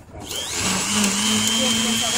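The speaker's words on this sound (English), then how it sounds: "I'll do that after the blender stops." A blender runs with a loud, steady whirring drone that starts up and holds for a couple of seconds, close by, with no talking over it.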